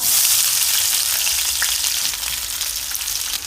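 Two medium onions sizzle loudly in a very hot pan, a dense, steady hiss of frying that fills the whole stretch without pause and with no voices.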